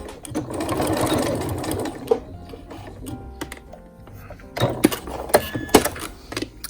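A sewing machine stitches skirt fabric, its steady mechanical whir running near and loud for about two seconds, then stopping; a few short taps and clicks follow as the stitch is finished and locked.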